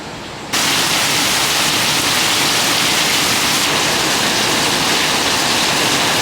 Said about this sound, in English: I want to just sit in here and listen to the rain